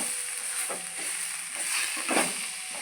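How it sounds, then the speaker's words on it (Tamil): Spinach greens sautéing in a frying pan, giving a steady close sizzle with soft stirring scrapes and bursts of hissing throughout. "நம்ம கீரை பொரியல் செஞ்சால் எந்த அளவுக்கு வதங்குமோ அந்த அளவுக்கு வதக்கிடுவோம்"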